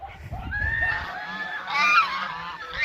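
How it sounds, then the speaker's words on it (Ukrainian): Several geese honk repeatedly in an overlapping chorus, fairly close and loud, with some low rumbling noise at the start. "Випустила свою свою птицю, гусей і корей пастися."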